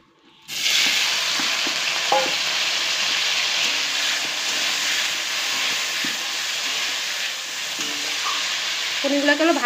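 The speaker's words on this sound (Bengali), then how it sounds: "পনিরগুলোকে ভালো করে ভেজে নেব।" Paneer cubes fry in hot oil in a pan, a steady loud sizzle running throughout with occasional scraping clinks as the pieces are stirred.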